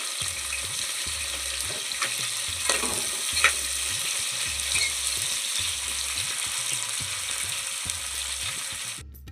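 Onions frying in a pan for vegetable pulao, with green chilies added, give a steady close sizzle and crackle, and a utensil stirs and scrapes at a regular rhythm under it.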